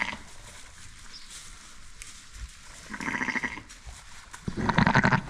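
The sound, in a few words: Clun Forest ewe bleating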